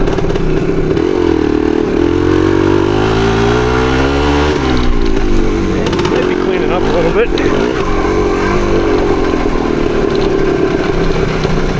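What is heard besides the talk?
motorcycle engine idling and revving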